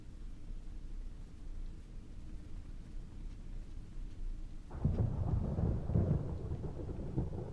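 A thunderstorm rages outside in a Resident Evil video game, with steady rain hiss under a low rumble before a loud roll of thunder swells in partway through and rumbles on, with no voices.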